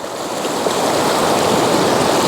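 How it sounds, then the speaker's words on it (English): A cascading brook stream rushes steadily nearby, a loud continuous broadband watery roar with no talk. "Overall, a beautiful example of a cascading stream morphology."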